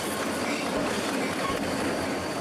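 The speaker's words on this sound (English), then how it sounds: "Lars spends much of his free time videotaping the great variety of trains that pass through his hometown" A train rolls steadily past in a small hometown, its continuous rail rumble and clattering wheels loud and close throughout, with no voices.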